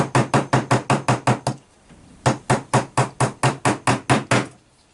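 Small nails are hammered into the wooden end pieces of a beehive frame in two quick runs of sharp, evenly spaced taps, close and loud, with a brief pause between bursts.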